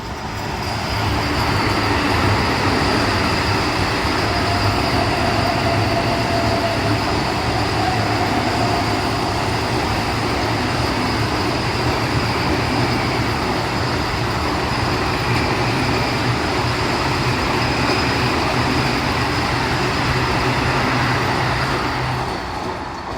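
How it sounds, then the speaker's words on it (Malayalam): A Vande Bharat express train rolls past alongside a goods train near Charlapalli railway station, a loud, sustained rumble and roar of wheels on rails holding steady throughout before easing at the very end. "ഈ ഗുഡ്സ് ആയിട്ട് പാരലായിട്ട് മറ്റേ വന്ദേ ഭാരത് വരുന്നുണ്ട്."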